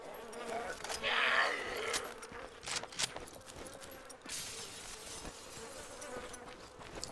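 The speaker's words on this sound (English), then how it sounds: "I think the zombies are smashing windows" Glass shatters as zombies smash windows in the DayZ video game, one bright crash early on followed by scattered cracks and knocks against a steady outdoor ambience.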